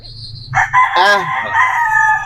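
A fighting rooster crows loudly and close by, one full drawn-out call lasting about two seconds, with faint background noise.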